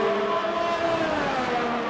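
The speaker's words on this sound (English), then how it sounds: "There's something fishy going on with that Honda engine, just sounds as if it's about to explode." A Honda Formula 1 race car engine in a sim racing league holds a loud, steady high-pitched drone, its harmonics sliding slightly in pitch as it runs continuously without any talk.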